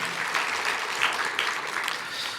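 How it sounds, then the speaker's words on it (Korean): A church congregation applauds steadily during a Sunday worship service, dense hand-clapping filling the room at moderate loudness with no voices over it. "여러분들 힘차게 박수하시면서 잘할 수 있도록 맞이해 주시면 고맙겠습니다"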